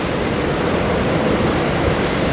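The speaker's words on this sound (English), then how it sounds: "these big waves, they really churn in and then flush themselves over here" Big ocean waves churn and crash against rocks along the shore, making a loud, steady roar of surf with no speech.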